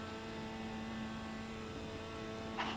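A Mini Stock race car in the iRacing sim holds a steady, droning engine note at constant throttle, loud and continuous, with a brief higher burst near the end.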